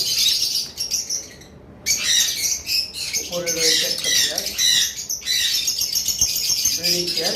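A pair of red-headed lovebirds at a bird sale squawks and chirps in shrill, overlapping bursts, close and loud almost throughout, with a brief lull near the start.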